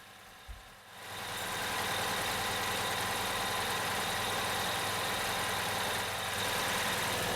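A fire engine's motor idles steadily through a pre-trip inspection, a loud, even mechanical drone that swells in after a brief thump and holds without a break, with no talking.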